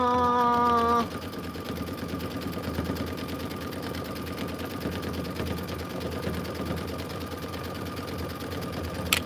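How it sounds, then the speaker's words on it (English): A sewing machine stitches steadily and continuously during a quilting session, its fast rhythmic whir holding a constant level throughout after a brief louder tonal sound at the start. "You're stitching now?"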